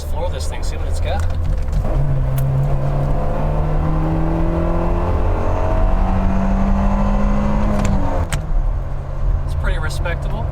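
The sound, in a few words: Fiat 500 accelerating at full throttle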